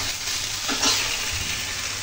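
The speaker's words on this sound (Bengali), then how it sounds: "মশলাগুলো ভালো করে মেখে নিতে হবে, যেন মশলাগুলো সবজির সাথে লেগে থাকে" Pumpkin pieces coated in spices are stirred in a hot frying pan, giving a steady close sizzle with a few soft spatula scrapes and no talking.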